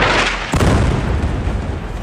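A bomb blast in Beirut erupts as a loud, close boom with a sharp onset, then a long, dense roar of rumbling debris and dust that carries on without pause.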